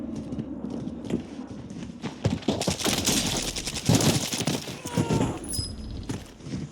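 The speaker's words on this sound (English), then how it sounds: "There were gunshots going on down here." Rapid bursts of video game gunfire from a Kastov 545 rifle in Call of Duty crackle continuously over a noisy background, with scattered single shots and faint sounds in between, dense and fairly close.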